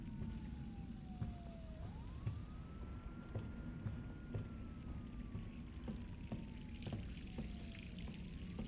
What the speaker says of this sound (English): There seems to be a constant siren.